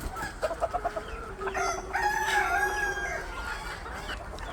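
Free-range backyard hens let out after months cooped up cluck in a quick burst, then a rooster gives one long crow nearby over a low murmur of the flock, with no voices.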